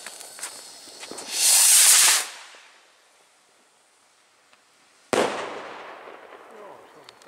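A New Year's fireworks rocket launches outdoors with a loud rushing whoosh lasting about a second, then fades; a sharp bang bursts a few seconds later and trails off into a long rumbling decay, with faint background noise.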